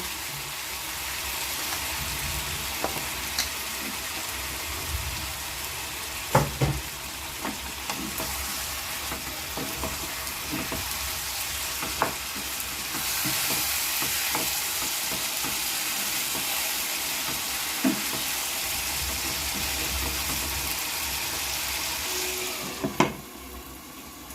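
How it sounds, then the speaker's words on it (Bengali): Chopped tomatoes hitting hot oil in a pan of mutton curry with potatoes, giving a steady loud sizzle with scraping stirs and a few sharp clicks of a spoon against the pot, with no talking. "এবার এর মধ্যে আমি কেটে রাখা টমেটোগুলো দিয়ে দিচ্ছি।"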